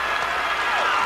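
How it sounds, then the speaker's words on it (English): Audience applause fills a gymnastics arena at a 1987 women's gymnastics meet as a gymnast returns to acknowledge the crowd, a steady dense clapping wash with cheering mixed in throughout. "here she comes again to take the applause"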